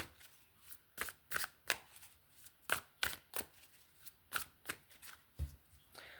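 Tarot cards riffle and snap in quick irregular bursts, close and crisp, with short pauses between shuffles.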